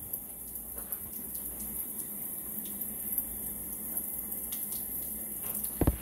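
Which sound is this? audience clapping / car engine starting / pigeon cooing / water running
water running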